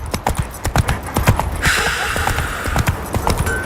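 Horse hooves clip-clop steadily at a brisk rhythm in The Witcher 3, close and clear, with a brief whooshing swell of background sound partway through.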